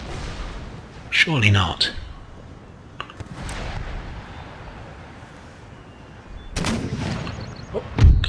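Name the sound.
mortar and musket fire in Empire Total War video game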